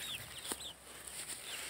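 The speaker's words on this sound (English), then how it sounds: "These are fantastic egg laying chickens" Chickens cluck softly in short bursts over faint background noise, with a few brief higher chirps.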